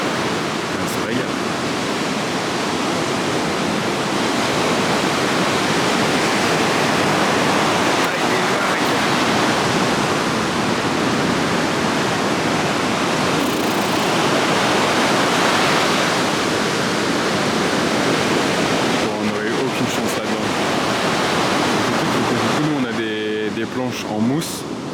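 Ocean waves at a surf spot roar continuously in a dense, loud wash of breaking surf, with wind buffeting the microphone and brief speech near the end.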